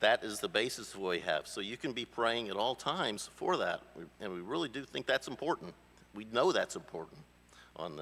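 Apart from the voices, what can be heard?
No everyday noises stand out.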